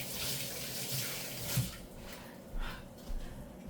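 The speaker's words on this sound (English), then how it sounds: "Let me wash my hands." Running tap water in a kitchen while hands are washed under it, a steady soft hiss with a few faint splashes, fairly quiet and with no talk.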